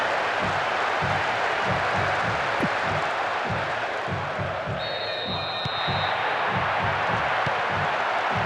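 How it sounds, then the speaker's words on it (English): Crowd applause and cheering in the PS2 soccer game Winning Eleven, a broad wash of clapping and stadium noise held steady throughout, with rhythmic thumps underneath and a brief whistle-like tone partway through. "he took the applause of the crowd"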